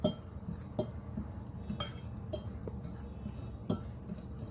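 A utensil stirring semolina and baking powder in a bowl, with light metallic clinks and taps against the bowl spaced through the quiet, close-up mixing.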